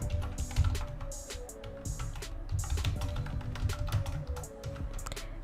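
Someone types a menu name on a computer keyboard: a steady run of close, quiet key clicks in an irregular rhythm, with no talk.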